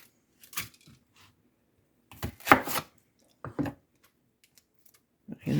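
A knife cuts a large Vidalia onion into strips on a board, giving a few separate bursts of close chopping strokes with quiet gaps between them.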